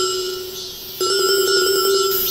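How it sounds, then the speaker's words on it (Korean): A mobile phone ringtone starts abruptly and plays a loud, steady, bright electronic melody over a quiet background, with no talk. "전화 오는데?"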